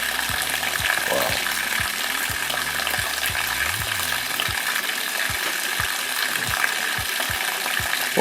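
Water pours steadily over a leaf inside an ancestral cave, a continuous splashing trickle heard close and alone, with a regular faint ticking drip rhythm underneath.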